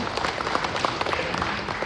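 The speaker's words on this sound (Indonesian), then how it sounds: "Tepuk tangan untuk kita semua." Applause from the audience at a government ceremony where officials are being sworn in, a brisk patter of many hands clapping at moderate volume, steady and continuous through the short stretch.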